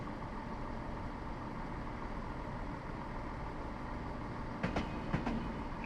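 Steady low rumble of a Class 170 DMU train running in Train Simulator 2016, a constant mechanical drone with a few brief clicks and clunks near the end, no voices.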